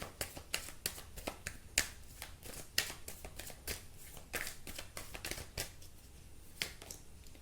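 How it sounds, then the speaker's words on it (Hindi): Tarot cards being shuffled and drawn, giving a run of crisp riffling snaps and flicks in an uneven rhythm, close and fairly quiet with no talk. "अभी मैं आपके लिए कार्ड निकालती हूँ।"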